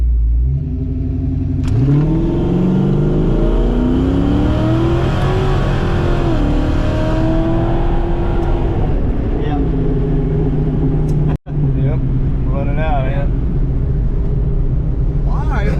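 A car with an AOD automatic transmission pulls away from a dead stop, its engine loud and close, revving up through rising gear pitches with a shift and a brief cut near the end, and a voice talking over it.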